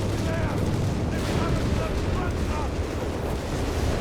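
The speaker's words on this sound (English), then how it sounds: "Whiz-bang let loose here." Artillery shells and gunfire boom and crackle in Company of Heroes 3, a real-time strategy game, forming a dense, loud, continuous barrage of battlefield explosions and shots, with a voice talking over the din.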